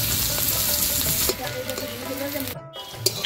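Chopped onion frying with bay leaf in mustard oil, a steady close sizzle with a brief stir and a short break near the end.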